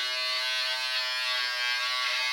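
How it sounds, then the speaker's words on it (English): A Philips Norelco Series 7000 electric beard trimmer runs steadily and close, giving a constant loud motor buzz with no talking. "That's why electric razors are ideal"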